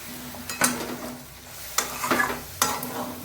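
A spoon scraping and stirring raw jackfruit curry in a pan over low sizzling, with three distinct clanking strokes against the metal spaced about a second apart and no voices.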